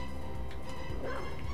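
A dog barks in the video game Castlevania: Symphony of the Night, a few soft, muffled yips buried under continuous game music and rumbling noise.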